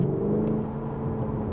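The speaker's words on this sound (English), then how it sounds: "The exhaust has definitely got better" A hybrid car with an opened-up exhaust revs in a steady, loud, throaty drone that holds close and continuous, with no voices.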